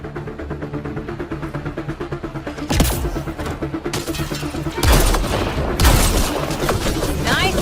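Gunfire in the video game Mass Effect Andromeda: a steady stream of rapid automatic shots runs throughout, punctuated by several louder booming bursts near the middle, with voices faintly underneath.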